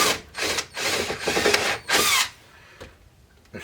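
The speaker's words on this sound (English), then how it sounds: "Countersink them a little bit." Power drill countersinking pilot holes in wood for an arcade cabinet build, several short whirring bursts of rising and falling intensity, close and loud, then quiet with small clicks.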